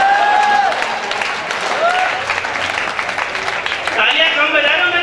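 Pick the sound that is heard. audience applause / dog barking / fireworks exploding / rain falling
audience applause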